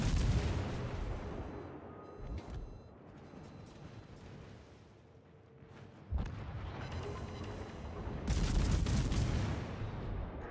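Heavy naval gunfire in the World of Warships video game, with battleship salvos booming as loud low blasts, a sharp burst near six seconds and a sustained roaring barrage toward the end over continuous rumble.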